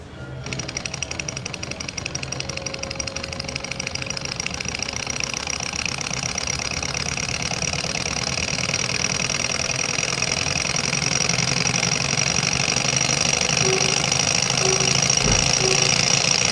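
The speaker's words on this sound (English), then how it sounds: "So you can get an engine like that really humming." A demonstration engine fitted with a heat collection system runs steadily, a loud continuous knocking hum with a rapid mechanical rhythm that holds throughout without talk.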